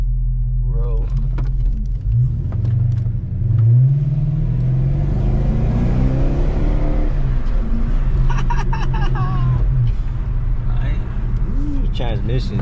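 A 2006 Dodge Charger with a V8 driving, its low engine rumble rising and falling through acceleration and gear changes, heard from inside the car with people talking over it.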